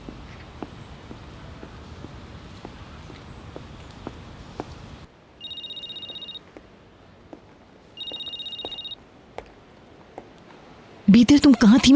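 A telephone rings in two separate bursts of steady electronic trills, with quiet room noise and soft tapping between them. A loud burst of other sound follows at the end.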